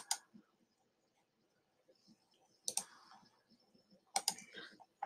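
Several sharp computer mouse clicks, right-clicks in a web browser, in small clusters near 0, 2.7 and 4.2 seconds, close and crisp over a quiet room with faint low rustle between.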